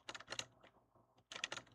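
Computer keyboard typing while blocking out a game level, two quick bursts of clattering keystrokes separated by a short pause, close and fairly quiet, with no talking.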